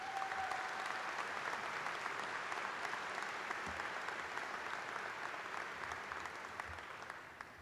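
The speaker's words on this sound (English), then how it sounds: "If we could give them a round of applause" Sustained audience applause fills an arena at a 2023 high school graduation ceremony, a broad, even roar of many hands clapping that slowly tapers toward the end.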